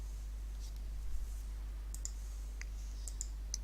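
A computer mouse clicks during SketchUp modelling on a computer. Quick pairs of sharp, faint double clicks stand out against a steady low hum, with no voices.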